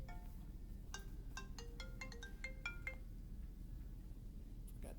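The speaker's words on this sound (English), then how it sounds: "That's my phone." A mobile phone's ringtone plays a quick, bright sequence of chiming notes, faint against room hiss, then stops.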